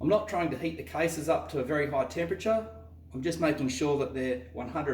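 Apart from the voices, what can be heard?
No everyday noise stands out behind the speech.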